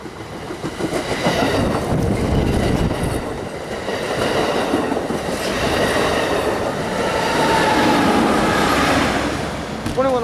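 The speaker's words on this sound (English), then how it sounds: "There goes 546 off to Sacramento." Amtrak train 546 rolls through a station bound for Sacramento, a loud, close rumble of railcars with clattering wheels and a rising squeal of metal near the end.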